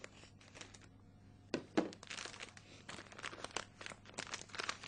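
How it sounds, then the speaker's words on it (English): A plaster splint being cut for a short leg posterior splint gives faint, close crinkling and crunching snips, with two sharper cracks early on, then a run of small irregular crackles in a quiet room. "we cut the splint"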